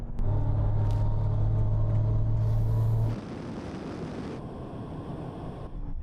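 An 840 hp Mercedes-AMG GT and a 760 hp electric AMG EQS accelerate hard in sport mode from 80 km/h: a loud, steady droning engine tone that gives way to a roaring rush of road and wind noise.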